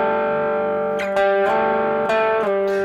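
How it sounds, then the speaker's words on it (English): Distorted electric guitar sustaining gritty chords from a solo, with a few quick changes as new notes are struck. "I just put a little bit of distortion on here."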